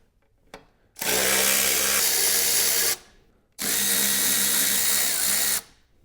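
A power driver fitted with a Torx 30 bit runs in two long, loud whirring bursts of about two seconds each while removing cover screws on a BMW R1300 GS motorcycle, with a brief click before the first.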